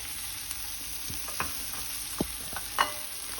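Garlic hitting a very hot pan for caldo verde: a soft, steady sizzle with a few sharp clicks and scrapes of stirring spaced through, close and fairly quiet, no voices.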